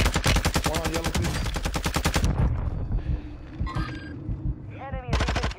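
Rapid bursts of automatic gunfire in a military first-person shooter game, loud and close, with a long rattling volley, a pause with scattered in-game sounds and a short electronic tone, then another burst.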